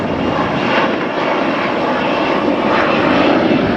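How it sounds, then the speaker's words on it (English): Airplane flying overhead near a construction site in Playa Del Rey, Los Angeles, a loud continuous jet engine roar that holds steady throughout. "I hear another airplane."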